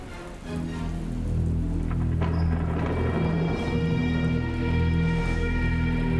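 Steady rain falling on surfaces, a close, even hiss with faint dripping and a low rumble underneath that swells after the first half second and holds to the end.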